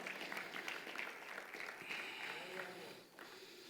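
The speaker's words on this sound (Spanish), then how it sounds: "levanta tus manos al cielo y dale un aplauso al Señor" Congregation applauding during a Spanish-language church service, a fairly quiet, steady wash of clapping that carries on for several seconds and dips briefly near the end.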